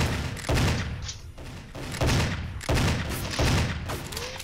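Gunfire in the shooter game GoldenEye: Source, a run of heavy booming shots in irregular bursts, loud and close, with a rising electronic whine near the end.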